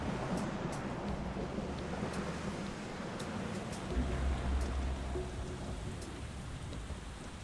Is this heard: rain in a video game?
yes